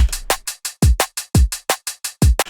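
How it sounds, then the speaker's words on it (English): A short, simple drum beat with punchy kicks, snappy snares and bright hi-hat hits in a steady, evenly spaced rhythm, close and dry. "I'm going to put together a very quick drum pattern"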